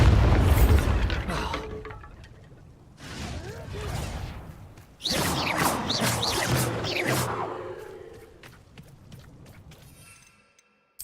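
Bombarda spell blasts in Hogwarts Legacy, a few booming explosions with whooshing bursts and crumbling debris, loud then fading to near silence, with game voices mixed in.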